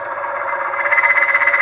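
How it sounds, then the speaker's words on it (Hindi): A hardened steel ball rubs metal-to-metal without lubrication on a loaded friction tester, giving a loud, steady high-pitched whine that grows stronger and takes on a rapid pulsing flutter partway through. "आप फ्रिक्शन की साउंड सुन पा रहे हैं"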